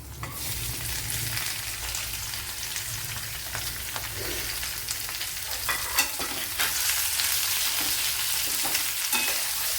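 Two medium-sized sliced onions sizzle steadily in hot oil in a pan for a vegetable kadala (chickpea) curry, with a continuous frying hiss and occasional stirring scrapes, close and fairly loud, no voices.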